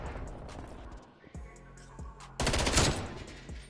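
FFAR rifle fire in Call of Duty: Black Ops Cold War, with scattered shots early, a quieter lull, then a loud, dense automatic burst near the end.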